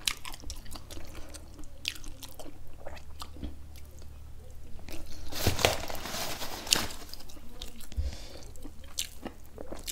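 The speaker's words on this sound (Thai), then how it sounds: "หนูขึ้นมากินผัก" Someone eats vegetables up close, with moist biting and chewing that crunches and squishes steadily throughout, plus a few sharper bites partway through and no talking.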